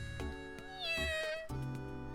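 Cat meowing in the visual novel The Fruit of Grisaia: a single drawn-out, clear meow close up, heard over a soft musical background with no speech.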